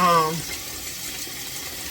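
Steady hiss of tap water filling a canning pot for jars of homemade pear preserves, continuous and close, with a voice talking briefly at the start and end.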